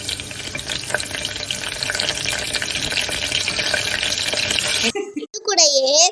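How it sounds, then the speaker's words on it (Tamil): Curry leaves hit hot oil for a peas kuruma and give a steady, dense, close sizzle. It stops abruptly near the end, when a voice speaks briefly. "இப்போ கருவேப்பிலையை சேர்த்துக்கிறோம்"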